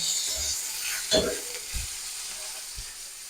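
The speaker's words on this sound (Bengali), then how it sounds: "এবার ওই তেলের মধ্যে দিয়ে দেবো যে করলাগুলো কেটে রেখেছিলাম সেই করলাগুলো করলাটাকেও আমি একইভাবে লাল করে ভেজে নেব" Sliced bitter gourd frying in hot oil in a home kitchen, a steady broad sizzle with a few soft stirring knocks and a brief louder crackle; no talking.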